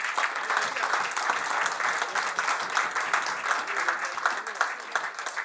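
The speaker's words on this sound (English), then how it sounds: "थोड़ा सा यार applause हो जाए" A school audience claps and applauds at a Round Table International Model School event, a steady dense wash of hand claps sustained throughout at moderate loudness, with no clear talk.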